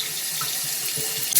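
Warm tap water runs steadily while a dog is rinsed clean of sand and shampoo during a bath, a continuous close splashing hiss that fills the whole moment without pause.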